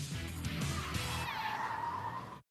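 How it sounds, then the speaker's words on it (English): A car's rear end slides after the handbrake is pulled, giving a sustained tire skid with a rising squeal over engine noise that cuts off abruptly at the end. "Pulling the handbrake at this moment reduces traction so much, the back end begins to slide."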